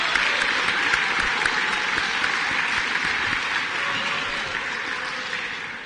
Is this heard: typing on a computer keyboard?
no